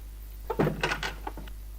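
A drawer sliding open in the PC adventure game Leisure Suit Larry II: a short burst of scraping and clunking lasting about a second, followed by a couple of lighter clicks, heard alone over a steady low hum.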